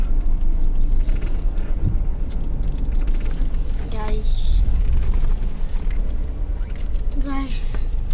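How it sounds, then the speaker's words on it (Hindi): A car backs out of a narrow residential lane, its steady low engine rumble running throughout while people talk inside the vehicle, with a couple of brief tonal beeps, likely reversing-sensor alerts, partway through. "गाइस अभी बाबा बैक कर रहे हैं गाड़ी."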